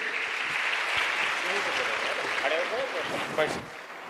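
Sustained applause fills a gathering on Sanatan Hindu dharma as a revered mahamandaleshwar is called up, a dense steady clapping wash lasting throughout with a voice speaking faintly beneath it.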